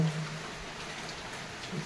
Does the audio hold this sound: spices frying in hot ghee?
no